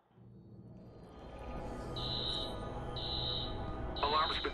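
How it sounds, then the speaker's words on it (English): Tripped alarm in the video game Watch Dogs, a high electronic tone beeping in regular long pulses about once a second over background game noise, with brief speech-like sounds near the end. "Alarm's been tripped."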